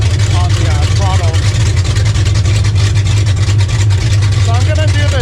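An Oldsmobile 455 V8 idles too high in a 1981 Cutlass while the carburetor mixture is being adjusted, giving a loud, steady, deep throbbing drone throughout, with brief voice sounds over it.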